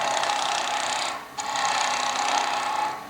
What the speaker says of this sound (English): I'll just turn the lathe up a bit faster